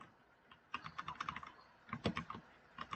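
Quick bursts of clicky keyboard typing during a Roblox game, close and fairly quiet, in two clusters separated by a short pause.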